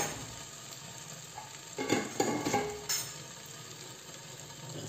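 Sauce stirred in a frying pan for a Turkish breakfast, with a steady low sizzle and a few louder scraping, clinking stirs in the middle, close by with no talk.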